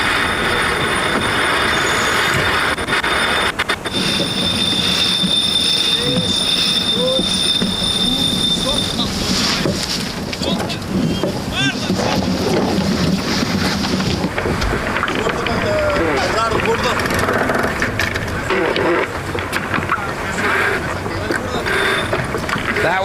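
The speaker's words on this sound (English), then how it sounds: "Here we go, on board with Team Portugal. Let's listen in as they're going to put in a jibe." Crew aboard Team Portugal's sailboat working through a jibe, with busy broadband rushing of wind and water, rigging and winch-like squeals and scraping, and faint crew voices underneath, steady and loud throughout.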